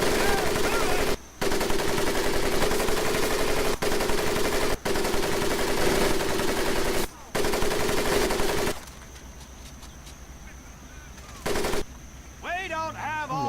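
Loud, dense machine gun fire crackles in long bursts with short breaks over the mud pit of a boot camp crawl in Medal of Honor: Pacific Assault, then drops away to a quieter background with a few faint voices.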